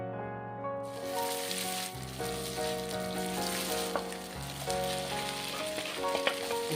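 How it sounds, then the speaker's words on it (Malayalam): Soya chunks fry in a pan for a Kerala-style biriyani, giving a steady, close sizzle and crackle with occasional stirring clinks, continuous throughout and without any talk. "നമുക്ക് ആ പരത്തി വെച്ച സോയാബീൻ ഉണ്ടല്ലോ, ഒന്ന് വറുത്തെടുക്കാം കേട്ടോ"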